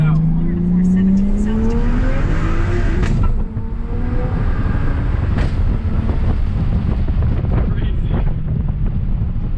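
A 750 hp BMW 335i engine roars steadily at high revs with wind buffeting, rising in pitch and dropping briefly as gears change without lifting.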